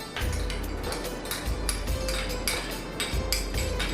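A spoon stirs 100 grams of yogurt in a bowl for matka biryani, with steady, close clinks and scrapes of metal against the bowl in a quick repeating rhythm and no talking.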